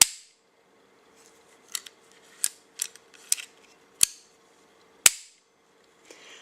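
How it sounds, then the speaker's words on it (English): An FEG 10 meter CO2 target pistol dry-fired with no CO2 loaded gives a series of sharp, dry metallic clicks and snaps, spaced irregularly about a second apart, close and crisp in a quiet room. "This one, there's no CO2 in it. I'm going to go ahead and fire it."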